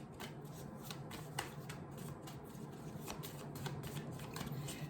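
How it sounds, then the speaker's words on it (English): Tarot cards being shuffled by hand, a quiet close-up run of soft riffling flicks and papery taps repeating irregularly for several seconds with no talking. "So again, I'm just shuffling,"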